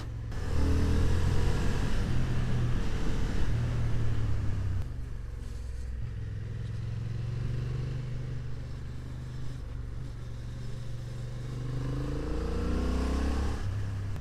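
A 2025 Honda Hornet CB750 motorcycle ridden on a winding road on new tires, its engine droning loudly and steadily from the rider's position, pitch rising and falling with throttle changes, no speech.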